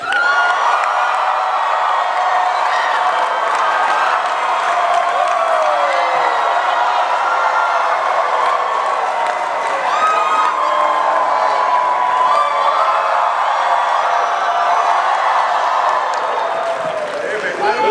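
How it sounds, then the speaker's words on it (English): Convention audience at LA Comic Con cheering, whooping and screaming for cast members on stage, a dense continuous roar of many voices with shrill shouts, loud and close throughout. "Please put your hands together. I want to hear screams from the back of the room."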